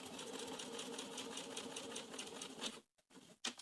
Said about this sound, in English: And now we're going to sew those pieces together.